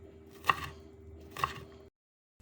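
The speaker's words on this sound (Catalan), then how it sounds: "Tallem mig pebrot vermell." Two distinct knife chops cut a red pepper on a cutting board about a second apart, close and crisp, over a faint steady hum.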